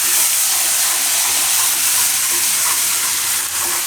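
Turmeric, coriander-cumin powder and red chili sizzle in hot oil over a low flame for an arbi potato curry, giving a dense, continuous frying crackle close up with no talk.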